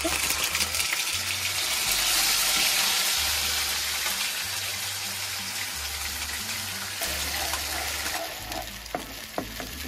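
Spice paste of ground tomato, ginger and green chilli hitting hot oil and frying, a loud continuous sizzle that slowly eases off, with a low background hum and a voice talking over part of it.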